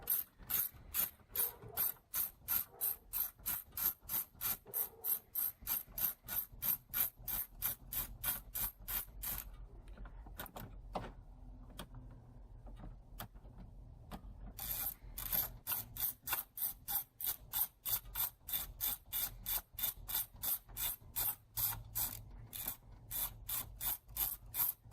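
Rapid rhythmic ratchet clicking from loosening a 13 mm starter bolt on a 1996 Chevrolet Blazer, steady bursts of fast pawl ticks with a short pause midway, close and fairly loud.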